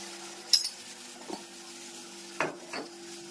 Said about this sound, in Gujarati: સરસ મજાનો વઘાર થઈ ગયો છે, જોઈ શકો છો.